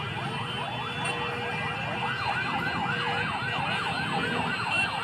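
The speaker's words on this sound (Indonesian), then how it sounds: "bersahutan dengan sirene aparat keamanan" Police and security vehicle sirens wail repeatedly in rising and falling sweeps, fairly distant, over steady crowd and street noise during a street protest near a police barricade.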